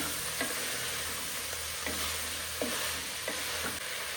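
Potato pieces and green peas stirred in hot tempering oil in a pan for an aloo curry: a continuous sizzle with a spatula scraping in regular strokes about every second.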